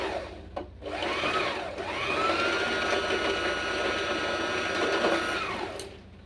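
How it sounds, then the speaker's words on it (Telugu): A sewing machine winds thread onto its bobbin with the needle idle, a close, steady whirring hum that speeds up and holds for several seconds before slowing down. "ఇప్పుడు మనం పాదాన్ని ప్రెస్ చేసినప్పుడు ఓన్లీ ఇది మాత్రమే తిరుగుతుంది అనమాట, ఈ పాదం తిరగదు."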